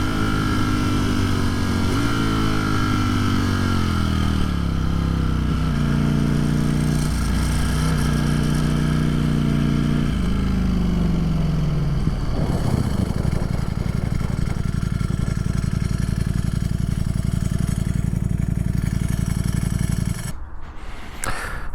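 A 2022 Ducati Streetfighter V4S motorcycle is ridden hard, its engine loud and close, climbing through the gears in a series of rising howls, then settling into a dense, steady roar before dropping off abruptly.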